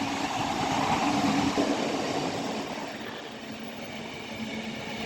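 An Avanti passenger train from London Euston to Chester rushes past at speed on the down fast line at Rugby, a loud continuous rolling roar that eases slightly toward the end, with no voices.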